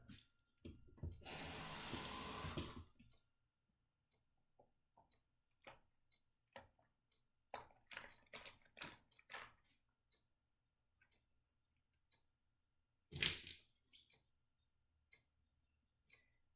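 Tap water runs into a bathroom sink while someone rinses charcoal tooth powder from their mouth: a loud gush for a couple of seconds, a scatter of small splashes and spits, then a second brief burst of water.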